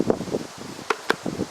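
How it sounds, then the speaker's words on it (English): Strong wind gusting through trees outdoors, with soft rustling of leaves and a few brief louder bursts of buffeting close to the microphone. "the wind is strong"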